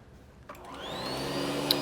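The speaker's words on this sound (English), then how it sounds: "I'll be using my Sanitaire commercial vac. It is a direct air feed, so really strong suction, pulls through the center of the motor." A Sanitaire commercial vacuum cleaner with direct air feed switches on and spins up, its motor whine rising into a loud, steady roar.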